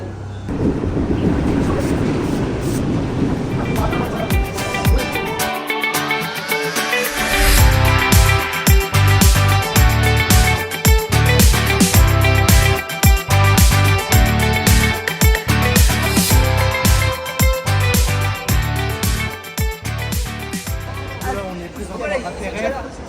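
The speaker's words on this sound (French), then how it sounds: "On va juste attendre le prochain métro" A Paris metro train rumbles into Porte Dauphine station and screeches along the rails, loud and rattling with a rising whine, while people chatter on the platform.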